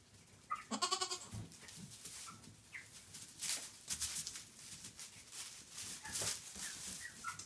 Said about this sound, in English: Just a happy little goat.